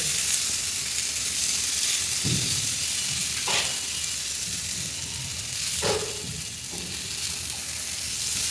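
Eggplant chops (begun chop) frying in oil in a pan sizzle loudly and continuously up close. A few short clinks and scrapes of turning and stirring cut through the steady hiss, and no one speaks.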